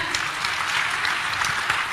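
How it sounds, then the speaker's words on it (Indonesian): Brief applause from an audience at a morning talk event in Manado, Indonesia, a steady wash of many hands clapping at moderate loudness for about two seconds. "Boleh tepuk tangan semuanya?"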